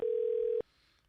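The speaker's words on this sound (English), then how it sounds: "I'm calling Alfred back." A single steady telephone tone sounds loud and clear for about half a second while a call is placed, then cuts off abruptly into a faint line hiss.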